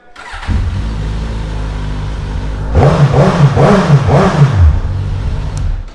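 A 2016 Suzuki GSX-S1000 ABS motorcycle with aftermarket levers starts up loudly and close by: a brief starter churn, then the engine catches and settles into a throaty idle with a few rising and falling blips of revving.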